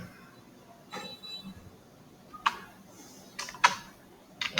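AutoCAD commands being typed on a computer keyboard, a few sparse sharp key taps and short clusters of clicks in a quiet room, close and fairly faint, no talk.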